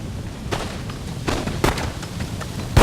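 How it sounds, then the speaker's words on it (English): Grenade blast in the Empire: Total War battle game, a few sharp booms spaced across a noisy battlefield background, with a louder burst at the end. "we're going to throw another grenade"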